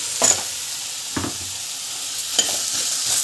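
Tomatoes sautéing in a pan for a simple breakfast dish, with a constant close sizzle and a few spatula stirs spaced about a second apart.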